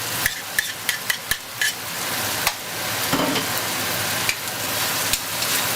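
Tomatoes sizzle as they fry in a hot pan with sardines, with a steady crackling hiss and sharp clicks and scrapes of a spoon stirring near the start, then continuous frying noise.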